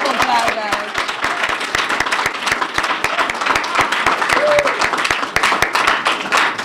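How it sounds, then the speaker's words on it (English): An audience at a speech competition claps steadily and fairly loudly, with scattered cheers mixed into the applause. "Can we have another round of applause for all the participants?"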